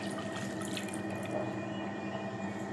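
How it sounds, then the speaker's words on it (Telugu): A glass of water pours into chicken curry cooking in a clay pot, a steady continuous splashing trickle that stays close and even. "1 గ్లాస్ వాటర్ వేద్దామండి"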